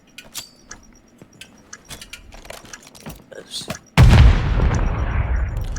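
A grenade goes off in a first-person shooter match: a sudden loud boom with a long noisy rumbling tail, preceded by scattered faint clicks and game effects while a caster talks.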